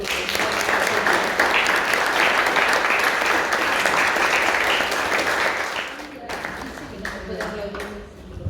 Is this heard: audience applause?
yes